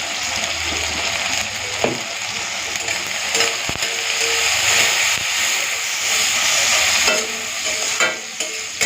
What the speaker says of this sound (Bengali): প্রথমে চিংড়ি মাছগুলো ভেজে নিই